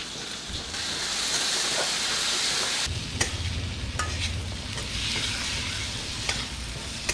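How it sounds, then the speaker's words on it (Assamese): Ground masala powder tipped into a hot pan for a fish-head and rice curry with potatoes, then stirred, giving a steady sizzle with scraping stirs and a few sharp clinks, fairly close and continuous with no talk. "এতিয়া এই মছলাটো মই ইয়াত ঢালি দিম।"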